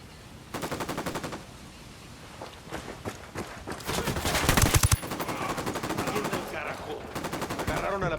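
Bursts of automatic gunfire from the video game Ghost Recon Wildlands, with rapid rattling volleys and heavier shots stacking up, loud and close, mixed with game ambience and scuffling movement.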